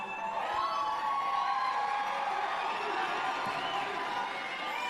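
A large crowd cheers and whoops at AM Fest 2025, a broad sustained roar of many voices with scattered shouts, steady and fairly distant.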